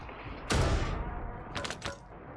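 Gunfire bursts in Call of Duty, a loud broadband blast around half a second in lasting nearly a second, then a second shorter volley of shots a second later, with no talk.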